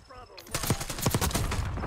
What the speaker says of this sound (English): Yeah, let's shoot it all down.